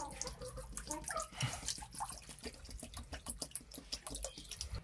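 Water poured into a bottle, a steady close trickle with dense dripping and splashing running throughout, brief and alone with no talk.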